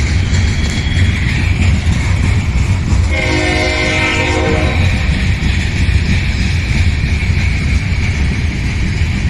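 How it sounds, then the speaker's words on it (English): A long, heavy coal freight train rumbles past close by on a loaded line, its horn blasting a sustained chord for about two seconds over the constant roar of wheels and cars. "Pretty long coal train."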